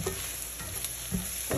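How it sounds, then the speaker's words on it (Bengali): Garlic sizzles in hot mustard oil in a pan, a steady close frying hiss with a few soft stirring scrapes. "রসুনটার জন্য একটুখানি সরিষার তেল এড করলাম"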